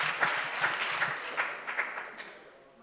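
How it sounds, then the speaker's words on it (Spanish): An audience claps for a prize winner in a draw, a moderate burst of applause that is fairly faint and gradually tapers away over a few seconds. "Pues un fuerte aplauso, enhorabuena."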